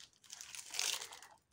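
Large plastic bags of diamond painting stones crinkle and rustle up close, a continuous dry crackle that swells to its loudest in the middle before easing off.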